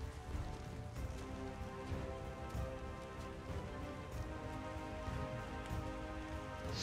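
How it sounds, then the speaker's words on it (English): Acid rain falls steadily in the ARK Survival of the Fittest video game, a dense, constant hiss of drops on surfaces that stays loud and even throughout with no pauses. "Acid rain."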